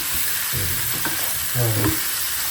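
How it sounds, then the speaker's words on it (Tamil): Prawn curry stirred in a hot pan, a close scraping and sizzling that comes in a few short strokes over a steady frying hiss. "நல்லா கிளறிட்டு இந்த இறால் கறி"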